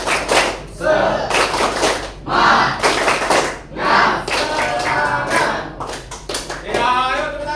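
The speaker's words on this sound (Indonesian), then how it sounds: "Ya, ayo tepuk tangan semuanya." A classroom audience claps along in rhythmic bursts, loud and close, with groups of quick claps separated by short pauses and some voices mixed in.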